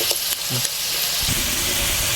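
Potatoes fry in oil in a pan with a steady, dense sizzle and a few clinks and stirring scrapes. There is no talk.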